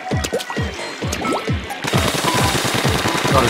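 An ink weapon in Splatoon fires rapid, repeated wet splattering shots in quick bursts, loud and close, and they speed up into a denser stream partway through.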